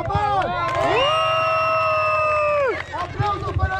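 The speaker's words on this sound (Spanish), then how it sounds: "¡Aplausos para Paul!" Crowd at a downhill bike race cheering for a rider, with loud excited shouts and whoops over a background of babbling spectators, a sustained cry trailing off near the end.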